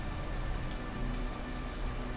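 Steady rain falling, an even hiss of drops spread over the whole stretch with faint scattered patters, no voices.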